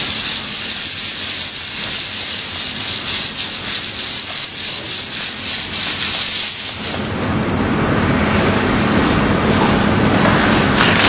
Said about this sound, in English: using a circular motion, gently shake the tops into the holes.